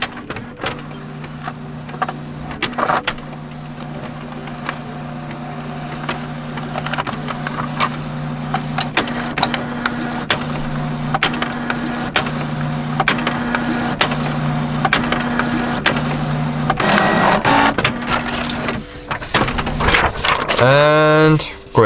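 A Canon MG5700 series inkjet printer runs its bottom plate cleaning cycle, giving a steady mechanical whir with repeated clicks and knocks, close and loud for about twenty seconds, ending in a burst of rapid ratcheting feed noise.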